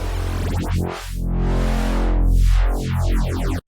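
Harmor synth bass with phaser width automation, a loud sustained tone whose sweeping notches rise and fall across the sound in a slow cycle, cutting off abruptly near the end.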